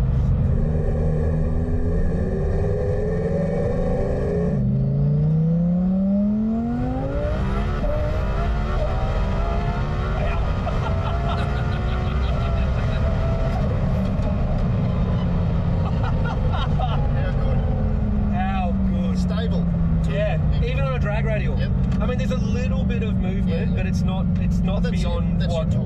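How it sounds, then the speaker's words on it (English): A 1500hp Lamborghini engine roars loudly, with repeated rising revs and accelerating sweeps through the gears, close and sustained, and voices talk over it. "It's so weird hearing that come out of a Lamborghini, isn't it?"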